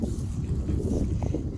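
Wind gusts across a barnyard, a short burst of low, buffeting rumble hitting the microphone with no speech.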